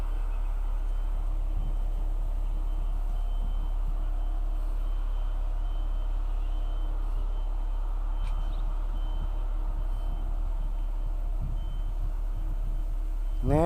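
On a toll road construction site, earth-hauling trucks, a rigid-pavement concrete paver and bulldozers make a steady diesel rumble, while a vehicle's reversing beeps repeat at a regular pace above it.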